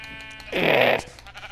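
A Minecraft sheep gives a single short bleat when punched in the PS4 edition of the game, a clear nasal baa lasting about half a second.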